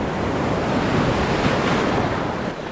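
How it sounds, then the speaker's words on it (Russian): Ocean waves break over a shoal off the coast of Goa, a loud continuous roar of surf heard from a boat, mixed with wind buffeting the microphone. "сейчас проходим на мель, где разбиваются волны"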